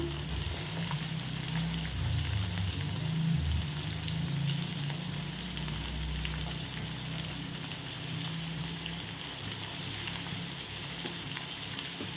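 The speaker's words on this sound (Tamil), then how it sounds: "இப்போ நல்லா வெங்காயம் வதங்கட்டும்" Onions and tomatoes frying in oil in a pan for tomato thokku, a steady soft sizzle with a low rumble of the stove underneath, close and continuous with no voices.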